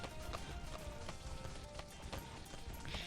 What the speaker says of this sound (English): Do the purple balloons just make that noise when they're popped?